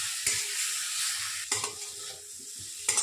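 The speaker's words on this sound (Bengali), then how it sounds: "মশলাটা কষা হয়ে এসছে, যে তেল ছাড়লে বুঝতে পারবেন যে মশলাটা কষা হয়ে যাচ্ছে" Spice paste frying in oil for a vegetable kofta curry, a close steady sizzle broken by a few sharp stirring scrapes of a spoon against the pan.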